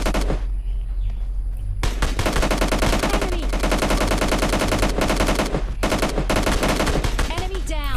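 Rapid SKS rifle fire from PUBG Mobile Lite plays as a dense, steady stream of loud shots across the whole stretch, with brief gaps and faint game ambience between bursts.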